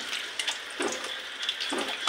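Unsalted potato pieces frying in plain oil over gentle heat for kacchi biryani: a steady, soft sizzling hiss with small crackling bursts throughout, and no talking.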